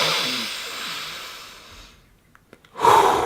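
A deep, drawn-out breath heard close to the microphone as a long airy hiss that fades away, then a short pause with a few small clicks before a sharp, loud exhale.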